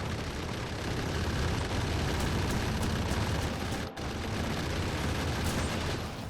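Gun turrets in a modded factory-building video game fire without pause at worms and biters. The shooting forms a loud, continuous wall of overlapping shots, broken by one very short gap partway through.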